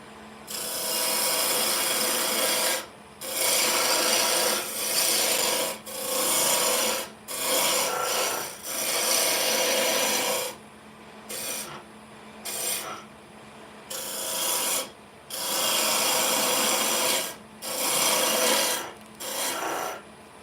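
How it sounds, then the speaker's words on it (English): All-purpose carbide carving bit on a rotary tool roughing out wood for a cake stand, a harsh rasping grind in repeated bursts of a few seconds separated by short pauses, close and loud. "at this moment in time I'm just using this all-purpose carbide as sort of like a quick stock removal."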